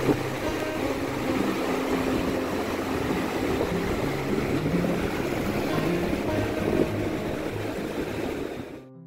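Steady broadband roar of surf and wind at Mandarmani beach on the Bay of Bengal, continuous and fairly loud throughout, with no voices.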